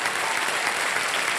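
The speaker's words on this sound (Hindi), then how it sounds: "तालियां बज जाए इनके लिए।" A game-show studio audience claps in a dense, even burst of applause, loud and continuous throughout the short moment with no voices over it.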